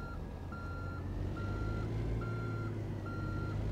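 A truck's reversing alarm in American Truck Simulator sounds four or five evenly spaced electronic beeps over a low steady engine rumble.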